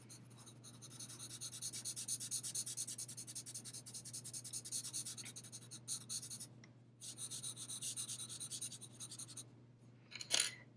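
Charcoal scratching steadily across paper in long, straight drawing strokes, a continuous dry rasp with short pauses between passes and a sharper scrape near the end, close and alone.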